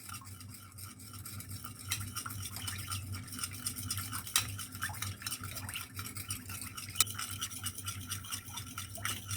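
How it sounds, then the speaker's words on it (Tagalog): A spoon stirs gelatin jelly powder into hot water for mango pudding, giving a steady, soft scraping swirl with faint clinks against the bowl, continuous and close for the whole stretch. "haluin nyo lang siya, guys, hanggang sa mawala na yung powder"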